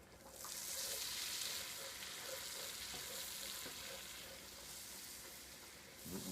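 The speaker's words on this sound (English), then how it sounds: "now I'm adding the flour. And you have to mix that in so it doesn't get lumpy." Flour being stirred into melted butter in a pan for chicken tetrazzini, a soft steady sizzle with faint scraping stir strokes, quiet and close with no talking.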